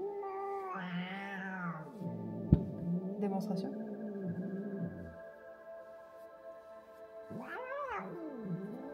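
A cat cries out in drawn, wavering yowls while being brushed, loud at the start and again near the end, with people talking between the calls.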